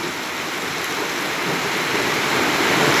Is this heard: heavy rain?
yes